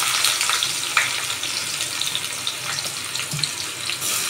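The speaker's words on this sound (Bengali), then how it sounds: "আর দিয়ে দিচ্ছি পেঁয়াজ কুচনো" Chopped onion dropped into hot oil with a bay leaf for an egg omelette curry, giving a steady, close, watery sizzle that hisses evenly throughout with no talking.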